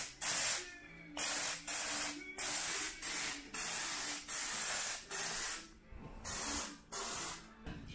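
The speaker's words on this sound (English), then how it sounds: "So it's a bit of spray glue time." Spray glue is applied to a rubber mat during restoration of a Crypton Motorscope 335, heard as about nine short, sharp aerosol hisses in an even rhythm, each lasting under a second and separated by brief pauses, close and clear.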